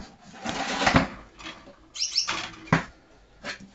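Pet birds flutter and flap inside a breeding cage at home, several short bursts of wing beats and scuffling close by, with brief chirps between them and no talking.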